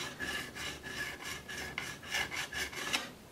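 Sandpaper rubbing back and forth over guitar frets during leveling and polishing, a soft, rhythmic rasp repeating about eight times at an even pace, quiet and close with no talk.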